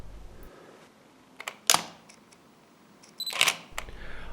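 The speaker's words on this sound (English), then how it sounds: "Pressing the shutter button all the way will release the shutter and take the picture" A DSLR camera shutter releases twice, each a sharp mechanical click-clack, close and crisp in an otherwise quiet room.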